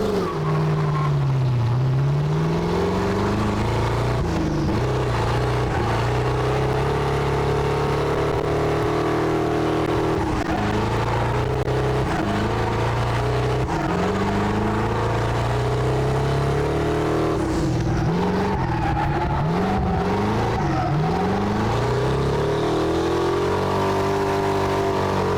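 A race car launching hard at take-off, the engine roaring loud and close as it revs up through repeated gear changes, pitch climbing and dropping over a long sustained pull.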